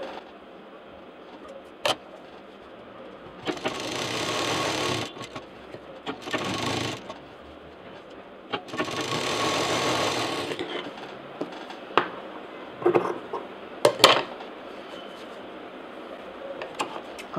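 A sewing machine stitching a fabric toaster cover in several separate runs of close, steady mechanical whirring, with sharp clicks and handling noises in the pauses between them.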